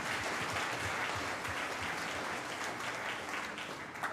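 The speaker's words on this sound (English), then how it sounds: "Let's hear a good hand clap for our wonderful Savior" A camp meeting audience claps their hands together in steady, dense applause that fills the space from start to finish, holding an even loudness with no voices standing out.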